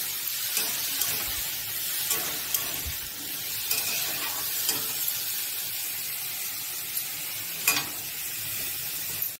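Vegetables for an Odia lunch frying in hot mustard oil, a steady close crackling sizzle with occasional sharper pops and spatters, continuing evenly throughout with no voices.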